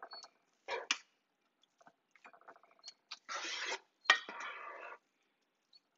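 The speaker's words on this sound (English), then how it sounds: "Okay, so I'm adding the squash." Spaghetti squash strands scooped into a casserole dish for a lasagna-style bake, heard as soft wet scrapes, a couple of clinks of a utensil against the dish, and a longer rustling smear near the close, all close by with no talk.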